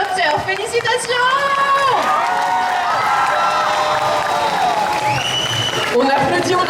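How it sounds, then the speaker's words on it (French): An indoor audience at a cosplay contest applauds and cheers a winner in a Legiana costume from Monster Hunter, a sustained crowd roar under an amplified host's voice and whoops. "On les applaudit bien fort."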